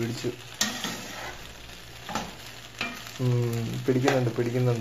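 Chicken macaroni sizzles in a pan while it is stirred and mixed, with scraping knocks over the frying hiss and a voice talking briefly partway through.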